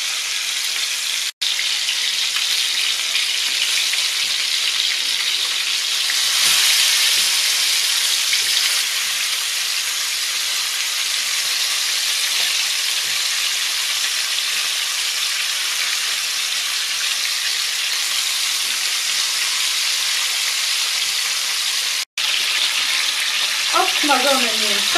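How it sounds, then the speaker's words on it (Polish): Chicken pieces, skin side down, sizzling steadily in a frying pan as they brown on all sides; a loud, continuous crackling fry runs for the whole stretch with no talk over it. "I będę je obsmażać ze wszystkich stron na rumiano."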